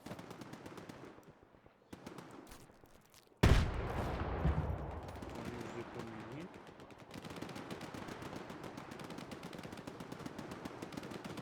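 Bursts of rapid gunfire in the video game S.T.A.L.K.E.R.: Shadow of Chernobyl crackle over a steady background, with one sudden loud blast followed by sustained firing and scattered shots.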